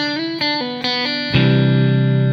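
An electric guitar with a distorted tone plays a short lick of a few plucked notes on open strings, then settles into a sustained ringing chord, loud and alone.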